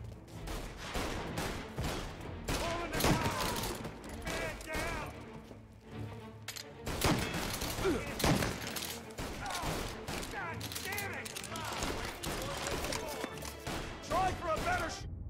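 Dense, rapid gunfire fills a shootout in the video game Mafia: Definitive Edition, with overlapping bursts and volleys running nearly continuously and loud throughout, while voices shout over the shooting.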